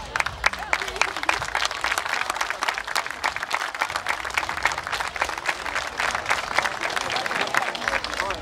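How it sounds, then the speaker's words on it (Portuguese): Dense applause from a folk festival crowd fills the whole stretch, steady rapid clapping from many hands at fairly close range, with no pauses. "Muito obrigado pelos vossos aplausos"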